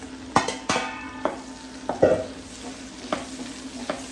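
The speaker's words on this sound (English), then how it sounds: "aubergines goes in. And peppers." Sliced aubergines and peppers dropped into a hot pan for traditional ratatouille, with a steady sizzle under several sharp clacks of a utensil stirring against the pan.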